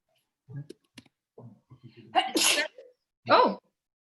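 A loud sneeze bursts out during an online voting session meeting, a sharp explosive burst followed by a second shorter one, with faint clicks and soft background voices before it.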